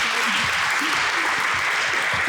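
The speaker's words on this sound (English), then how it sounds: "Give a round of applause for Sarah." An audience at a conference event gives a short burst of continuous clapping, dense and even for about two seconds, with faint voices mixed in underneath.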